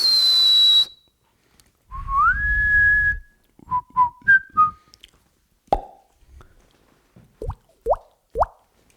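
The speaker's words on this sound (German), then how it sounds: "Mögen die Leute, wenn man pfeift." A person whistles in a football stadium, close and clear: a long steady note, then a rising slide. After that come several short chirps and quick upward-swooping whistles with a few soft plops between them.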